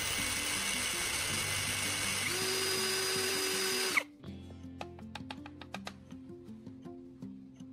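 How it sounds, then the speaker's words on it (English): A small spinning tool tip whines steadily while sandpaper is pressed against it to sharpen it, then the motor cuts off abruptly and faint scattered clicks and taps follow. "using sandpaper press against a spinning tip, I'm refining it."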